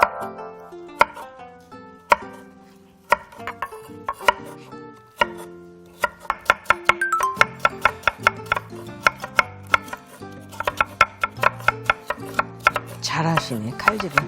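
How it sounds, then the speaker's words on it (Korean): A knife chops bean sprouts on a cutting board, starting with sparse single strikes and building into quick, steady rhythmic chopping, close and crisp with no talk. "우리 전문가 선생님들의 이 칼질 소리 있잖아요"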